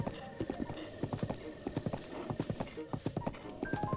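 Hooves clip-clop in a quick, regular trot from a horse in Zelda: Breath of the Wild, close and steady throughout, with soft game ambience and faint chime-like tones behind.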